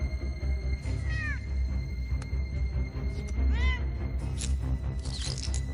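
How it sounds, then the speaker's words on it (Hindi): Two drawn-out cat meows with rising and falling pitch, spaced a few seconds apart, over a steady low background hum and clutter. "अरे वो बिल्ली है, कोई बब्बर शेर नहीं।"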